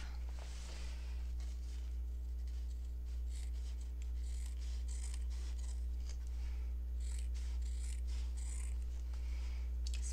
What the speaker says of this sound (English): I'm just off camera here, cutting the selvage off